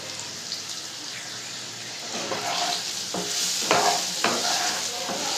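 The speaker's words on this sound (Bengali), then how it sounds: "মশলাগুলো দিয়ে এবারে নাড়াচাড়া করে নেব" Ground chilli, cumin and pepper spices sizzle in a pan for a Bengali rohu fish curry with potatoes, stirred with a utensil that makes several sharp scraping clicks over a constant frying hiss.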